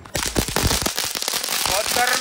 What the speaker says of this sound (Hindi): पिछले साल के पॉपकॉर्न वाले पटाखे पड़े हैं अभी से चलाते हैं इनसे ना मस्त पॉपकॉर्न बनता है